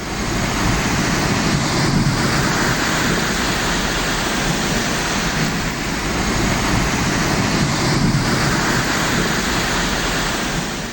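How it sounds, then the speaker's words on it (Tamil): Heavy rain pouring with floodwater rushing along Old Mahabalipuram Road in Tamil Nadu, a dense, continuous roar that swells and eases slightly, steady and loud throughout. "பழைய மகாபலிபுரம் சாலையில் கனமழை காரணமாக வெள்ளம் பெருக்கெடுத்து பாய்ந்தது"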